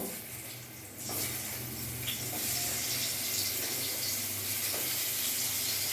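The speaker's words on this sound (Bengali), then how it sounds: "এবার আমি পটলগুলো, নুন হলুদ মাখানো পটলগুলো আমি ভেজে নেব।" Pointed gourd coated in salt and turmeric sizzles in hot mustard oil, a steady, dense hiss of frying that swells after a quieter first second and holds loud and even to the end.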